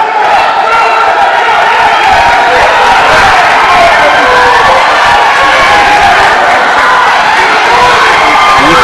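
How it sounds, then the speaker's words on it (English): A packed gym crowd at a high school wrestling match between Los Banos and Pacheco, loud continuous cheering and shouting without a break, close and dense throughout. "The crowd's giving him some motivation."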